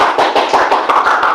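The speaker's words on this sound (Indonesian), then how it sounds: "Oke, tepuk tangan untuk Tina." Classroom applause for a student, a short burst of steady, fairly close hand clapping from a small group lasting just over a second.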